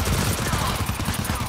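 Rapid automatic gunfire in the co-op shooter game GTFO rattles in a dense, continuous burst of loud shots for the whole short moment.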